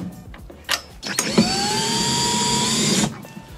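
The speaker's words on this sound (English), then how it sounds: "just screwing away with our power tools, getting rid of all the seats, getting rid of all the mess." A power tool runs while seats are being unscrewed from a Ford Transit minibus being stripped for a campervan conversion. After a few short knocks comes a close, steady motor whine lasting about two seconds, which then cuts off.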